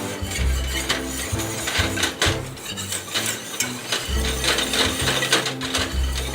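Flour being stirred slowly into a white sauce in a pan for low-fat macaroni and cheese, a steady scraping and clinking of utensil against cookware with rhythmic low thumps, close and fairly loud, no talking.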